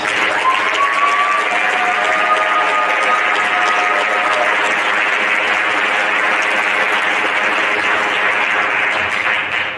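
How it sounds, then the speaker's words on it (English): University commencement crowd applauding graduates, a dense, even wall of clapping with a brief whistle near the start, holding steady and loud throughout. "Let's give them all a round of applause."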